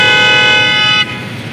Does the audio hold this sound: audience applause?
no